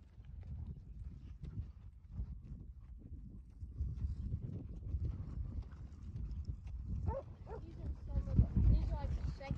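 Dogs bark and yip around cattle being herded on horseback, with hoof clip-clop throughout and a person calling out over the rising commotion near the end.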